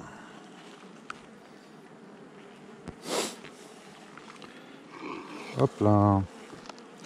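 Honey bees buzz in a steady, low drone around a hive as foragers return with nectar and pollen, with a few snorts and brief movement sounds near the mic and a short spoken remark.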